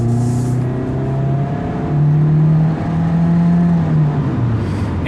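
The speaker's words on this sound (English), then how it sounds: "let's go on the highway and we'll accelerate and you'll see" A 2018 Mitsubishi Eclipse Cross 1.5 AWD with a CVT, engine warm, accelerating on a Swiss highway: steady, loud in-cabin engine drone rising and stepping in pitch as it pulls, with road and wind roar throughout and no talk.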